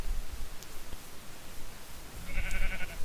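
A Minecraft sheep bleats once near the end, a short wavering cry over a soft rustling, noisy background.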